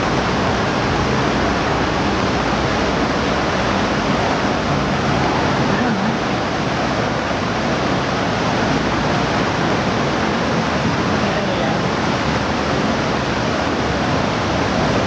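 A powerful current rushes through an underground river of vivid blue water, a dense, unbroken roar of churning flow, loud and close, with no break for the whole stretch.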